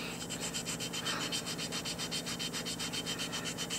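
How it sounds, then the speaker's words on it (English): A fossil echinoid, Scutellaster major, is sanded by hand in steady rhythmic back-and-forth strokes, a close, even gritty rasping repeated continuously with no talk. "When you think you've sanded it good enough, sand it some more."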